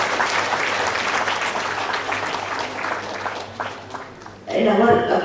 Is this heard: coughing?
no